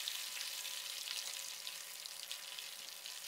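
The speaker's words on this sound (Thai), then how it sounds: "ตอนนี้น้ำมันร้อนจัดแล้วครับใส่เนื้อปลาดุกของเราลงไปเลยครับ" Catfish meat frying in very hot oil, giving a steady, dense hiss and crackle that carries on without a break, close but fairly quiet, with no voices.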